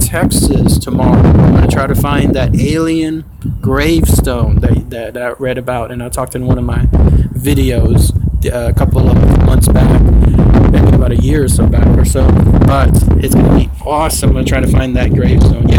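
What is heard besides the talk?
strong wind blowing into microphone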